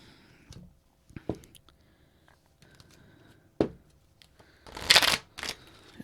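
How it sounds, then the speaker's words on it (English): A deck of tarot cards is shuffled by hand in a few separate bursts: short riffles and slides, close and crisp, with quiet pauses between and a louder flurry near the end. "this one doesn't want to be shuffled because I'm like, okay, that didn't want to shuffle"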